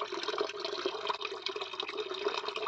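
Stream water runs over rocks around orchid roots, a close, busy babble of gurgles and splashes that stays steady and fairly loud, with no speech.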